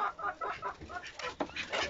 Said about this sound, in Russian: Бедный петух орал, как потерпевший.